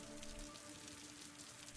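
Steady rain falls at a lonely, small train platform, a soft continuous hiss of drops pattering on surfaces, even and unbroken throughout with no voices.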